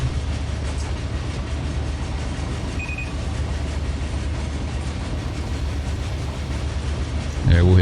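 A BNSF freight train rumbles steadily in Run 8 Train Simulator in the LA Basin, a continuous low drone with faint rail clatter, a brief tone midway and a louder burst at the end.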